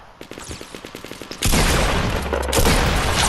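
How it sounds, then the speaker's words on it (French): Video game gunfire, first a rapid run of loud close shots, then a dense, sustained roar of shooting and blasts. "J'allais le kill au snipe quand j'ai tiré"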